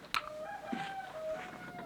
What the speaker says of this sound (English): Quiet, chicken.